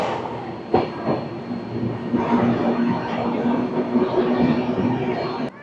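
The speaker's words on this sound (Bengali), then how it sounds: "রানীগঞ্জ আর দুর্গাপুরের মাঝে আমাদের এই ট্রেন অতিক্রম করবে 24 কিলোমিটারের ননস্টপ ডিস্টেন্স" Sealdah Ajmer Express (12988) running nonstop between Raniganj and Durgapur: a steady, close rolling rumble with rhythmic wheel clatter and a sharp knock near the start, with no talking.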